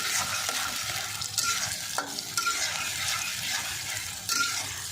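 Goat tripe stir-fried with green and red chillies in a pan, giving a steady soft sizzle broken by scraping stirs and a few sharp spoon clanks on the pan.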